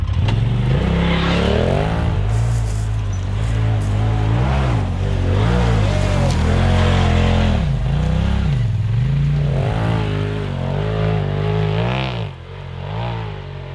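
Side-by-side UTVs such as a Polaris RZR, Kawasaki KRX, Yamaha YXZ and Can-Am Maverick climbing a steep ravine hill, engines revving loud and close with rising and falling pitch as the throttle is worked, easing off at the end.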